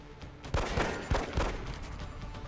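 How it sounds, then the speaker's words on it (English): Pistol fire in X-Com: Enemy Within rings out as a few sharp, close gunshots in quick succession, each cracking over a dense, busy game soundscape. "you should be able to pistol him for 2 damage"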